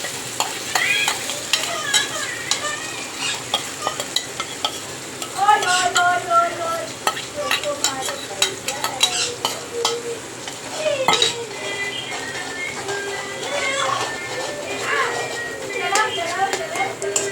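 Ginger-garlic-chili paste and onion gravy fry in a pan, a constant sizzle broken by a spoon clinking and scraping against the metal as it is stirred, with voices talking in the background.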